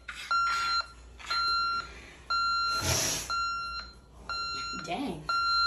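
An ADT SafeWatchPro3000EN alarm keypad beeps during the exit delay, sounding a repeating series of sharp electronic tones in quick bursts with brief gaps, while a person speaks faintly in the background.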